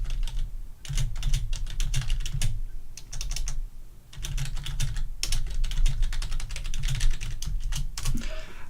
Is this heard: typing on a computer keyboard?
yes